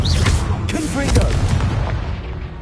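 Confringo fire spell blasting rocks in Hogwarts Legacy, a booming burst of explosive impacts with crackling debris, loud and close, fading over a couple of seconds.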